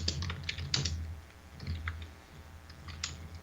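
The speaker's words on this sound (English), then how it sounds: "Sorry about all the typing." Someone types on a computer keyboard during a live stream, with scattered clicks and short bursts of keystrokes at close range over a low background hum.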